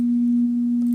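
A synthesized sine wave tone, a single steady pure pitch held loud and unbroken for about a second, alone with no voices.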